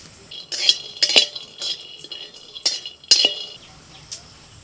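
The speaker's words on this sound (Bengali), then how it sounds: "প্রথমে একটু চিনে বাদাম ভাজবো" Peanuts are stirred in a pan, a spoon scraping and clinking against metal in irregular bursts over a faint frying hiss.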